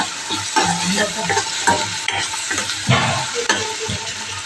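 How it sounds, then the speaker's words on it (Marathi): Onion with mint and garlic paste sautés in a steel kadai, a close, steady sizzle broken by frequent scraping and knocking strokes of the stirring spoon against the metal, no talk. "पुदिना आणि लसूणची पेस्ट टाकली त्यानंतर आता छान परतवून घेऊया"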